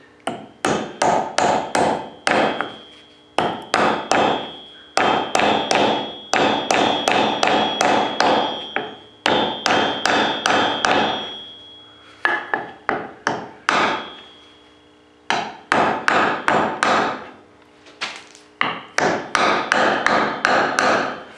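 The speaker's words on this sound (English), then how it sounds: "Setting the wedge." A wedge is driven into a hammer handle with a steady series of sharp, ringing metal hammer strikes in quick bursts, separated by short pauses, close and loud with no talking.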